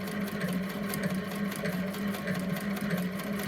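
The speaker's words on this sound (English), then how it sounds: "Now I don't want the edges of my stitching to come away, so I'm just back stitching." Vintage sewing machine back stitching along fabric edges, a steady close mechanical whir with fast rhythmic needle clatter throughout, heard alone without voices.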